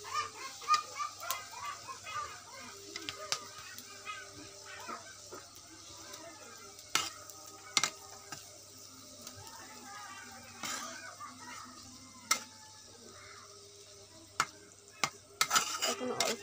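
Pangas fish pieces sizzle softly in a pan of cooking oil and spices while a utensil stirs and scrapes them with sharp, irregular clatters. A voice speaks at times, and a steady low hum runs underneath.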